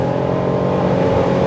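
A 2025 Kia Telluride engine pulls hard while accelerating to pass in sport mode, a loud steady revving drone heard from inside the cabin, climbing slightly over the brief moment.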